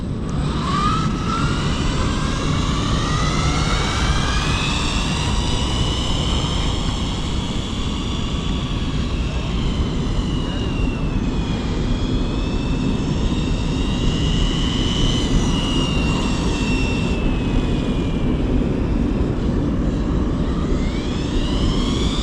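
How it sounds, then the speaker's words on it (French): Hobao Hyper RC car with a shaft drive transmission running continuously, a loud sustained whining drive note that rises and falls in pitch as it speeds up and slows, over a rough steady roar. "elle est un peu plus bruyant, hein, parce que ça c'est une vraie transmission à cardan."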